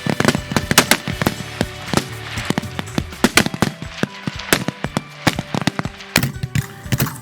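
Rifle fire at the 2021 CMP National Matches at Camp Perry: a dense string of sharp, loud reports from many shooters, cracking in quick irregular succession with some nearer and some farther away.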